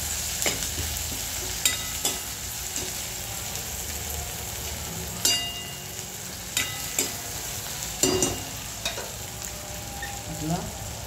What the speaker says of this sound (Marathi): मंडळी थोडी तेलामध्ये असे ते सुकट पण टाकलेले